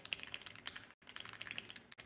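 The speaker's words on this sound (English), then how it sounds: "I like your keyboard sound." Clicky mechanical keyboard with Black Reaper switches, quick bursts of close, crisp keystrokes in an uneven rhythm, briefly pausing midway, fairly quiet and alone.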